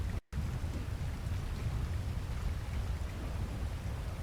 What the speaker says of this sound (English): This is such a great view during the storm.